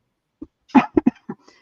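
Several sharp coughs in a short burst, one louder hack followed by quick repeated coughs, then a softer one, close up with no talking.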